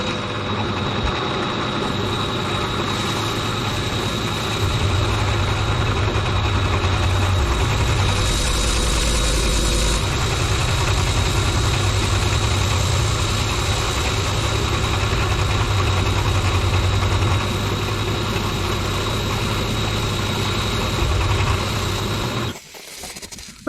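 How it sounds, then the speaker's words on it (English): Small air compressor feeding a lathe coolant mist system at about 10 to 15 psi, running steadily with a continuous mechanical hum and drone, close and loud, cutting out near the end. "Little compressor, chamber with some coolant in, compressed air, 2 little needle valves."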